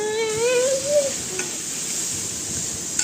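Onion fries in a pan for a chicken dish, a loud, close sizzle with stirring scrapes, while a brief whistling tone rises and fades early on.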